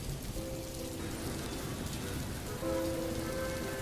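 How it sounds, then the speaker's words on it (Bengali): Steady rain falls outside a coffee shop, a dense continuous patter of drops on surfaces, with faint tonal hums drifting in the background and no voices. "আজও কফি শপে বৃষ্টি পড়ছে।"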